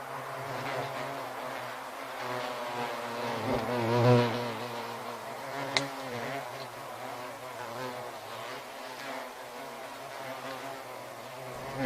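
Honeybees buzzing at a beehive, a steady dense drone that swells briefly around the middle and continues throughout without speech.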